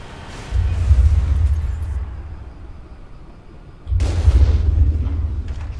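A gunshot blast in the Mass Effect video game lands as a heavy boom that fades out, then a second loud blast follows a few seconds later, both deep and forceful.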